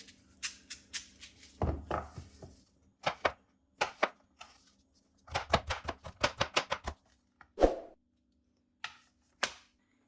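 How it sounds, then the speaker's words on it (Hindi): Carrots being chopped into pieces on a cutting board, with quick bursts of sharp knife taps separated by short pauses, close and fairly quiet. "यहाँ गाजर के भी हम वैसे पीस कर लेंगे।"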